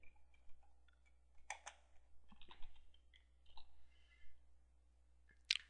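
A few scattered keystrokes and clicks on a computer keyboard, light and close against a quiet background with a low steady hum.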